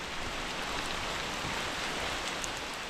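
Heavy monsoon rain pours down in a Konkan village, a dense, even hiss that holds steady and close without a break or any voices.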